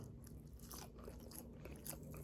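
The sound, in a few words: biting into crunchy skin of fried chicken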